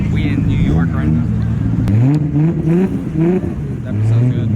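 Cars revving at a two-step car meet competition in cold New York weather, engines rising and falling in repeated rev bursts, loud and near, with people talking throughout.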